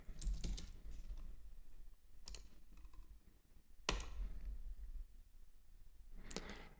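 Registration details typed on a computer keyboard: scattered bursts of close, crisp key clicks with short pauses between them, one louder tap near the middle, and no talking.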